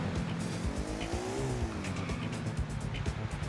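A vehicle in Grand Theft Auto IV drives with a continuous engine drone and a rising, wavering tire squeal in the middle, the racing noise steady and loud throughout.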